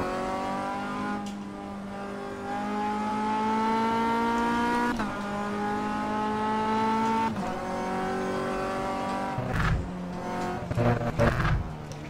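Low-powered race car in the sim racing game Automobilista, engine note climbing repeatedly through the gears with brief drops at each shift, loud and steady, then chopping revs near the end.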